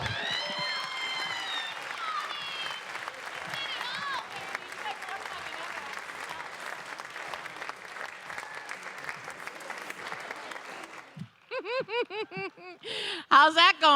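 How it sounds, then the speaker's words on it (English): A comedy club audience applauds steadily for about eleven seconds, dense, even clapping that fades out, followed by someone speaking loudly. "you applauded for the projects"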